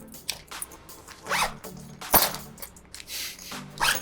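Several quick pulls of a backpack zipper rasp open close to the microphone, with a brief metallic jingle of keys partway through.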